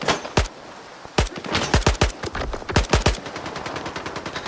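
A gun loaded with pistol ammunition firing in the video game S.T.A.L.K.E.R. 2: sharp, loud shots in quick bursts and rapid strings, some single cracks, with no talk over them.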